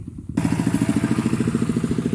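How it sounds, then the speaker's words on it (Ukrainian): A small tractor with a plough drives along a village road, its engine chugging in a steady low throb that starts abruptly and stays close and loud. "Їде тракторець, треба зійти з дороги."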